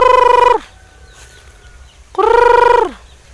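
Laying hen in a banana grove searching for a nest, giving two loud, drawn-out squawking calls close by, separated by a quiet pause of over a second.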